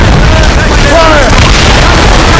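Ship cannons firing in a naval battle in Assassin's Creed Rogue, a very loud booming blast with heavy low rumble filling the clip, with shouting voices over the din.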